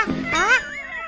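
An animated cartoon cat gives a single short, rising-and-falling meow, close and clear, with a brief burst of another sound just before it.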